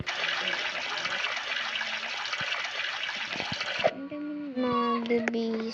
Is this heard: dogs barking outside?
no